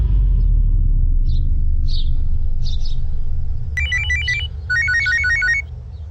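A telephone rings indoors during a crime drama scene, its repeated bursts of bright electronic trilling arriving partway through and sounding fairly close over a steady low rumble, with no talk.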